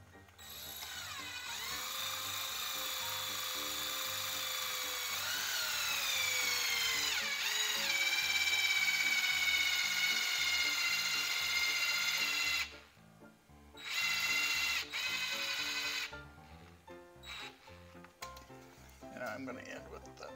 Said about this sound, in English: Don't get your finger around that while it's twisting, and turn your drill on slow speed.